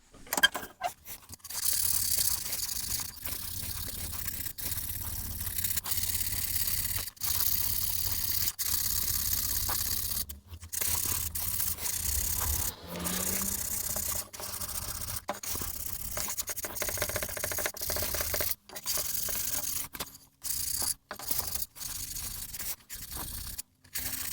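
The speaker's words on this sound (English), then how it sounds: "Quick hit with some sandpaper, and that should be our seat." Dry, scratchy strokes of sandpaper on wood rasp continuously up close, broken by brief pauses and a few soft knocks, fairly quiet with no talking.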